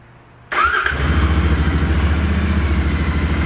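A Royal Enfield Continental GT 650 motorcycle cranks and fires abruptly, then settles into a loud, steady, slightly high idle with an even rhythmic thrum, close by and with no talking.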